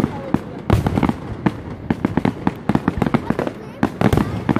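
Fireworks burst one after another in rapid irregular volleys, sharp loud cracks and booms packed close together, while people talk excitedly nearby.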